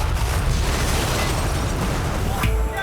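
A restaurant is blown apart by an explosion: a loud, deep, rumbling blast sustained for nearly three seconds, with debris noise and a brief trailing crackle near the end.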